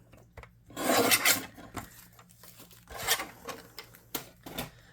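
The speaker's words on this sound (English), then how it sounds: "we're going to grab our envelope and our trimmer. I'm going to trim our envelope down" A paper trimmer cutting down a junk mail envelope, with short rasping slides of the blade in several separate strokes, close and fairly quiet, no talking.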